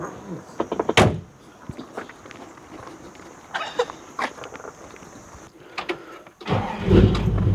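A 1962 Chevrolet Impala station wagon restomod, with a door thump and clicks, then a V8-style engine cranking and catching near the end, running loud and close.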